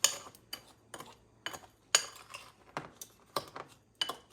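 A utensil mixes dry spices for ribs in a bowl, giving about a dozen close, evenly spaced clinks and scrapes against the bowl, with no voice.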